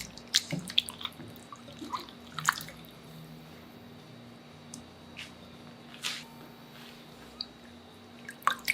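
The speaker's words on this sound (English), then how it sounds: "Soak and rinse it 3 times with clean water and drain." Bitter gourd rinsed in clean water, with soft intermittent drips, splashes and squishy handling sounds at close range, scattered and fairly quiet, no talking.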